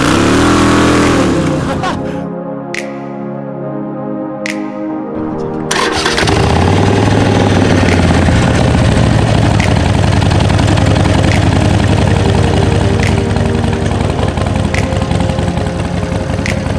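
Harley-Davidson motorcycle engine revving hard for a burnout: a rising throaty rev, a brief dip to idle, then a sustained, loud, rough roar held close by for about ten seconds.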